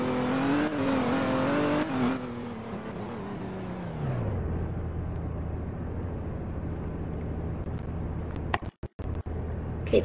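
A car engine in the Roblox ER:LC roleplay game hums steadily and revs down, fairly loud and close, then settles into an even low drone with a few brief clicks near the end.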